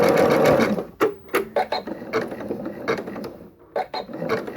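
A sewing machine stitches a zigzag appliqué, running in quick bursts of close, loud mechanical whirring broken by short pauses where the foot is lifted and the fabric is turned.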